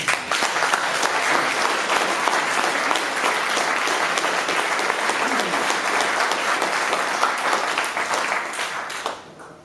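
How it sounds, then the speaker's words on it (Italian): Loud, sustained applause from a large crowd at a March 1 strike rally in Italy, dense and steady for nearly ten seconds before tapering off at the end. "Grazie mille per questo applauso"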